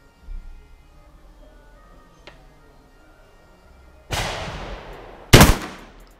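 A Turkish Ata Arms Neo 12 shotgun fires Karat 12/70 slugs outdoors; after a quiet stretch with a faint tick, two loud close shots ring out about a second apart, the second harsher, each followed by a decaying echo.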